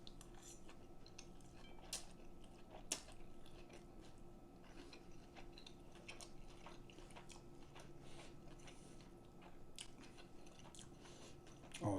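Eating spaghetti aglio e olio topped with crunchy breadcrumbs, red pepper flakes, parsley and garlic: close chewing and biting with scattered fork and plate clinks over a steady low kitchen hum, no talk.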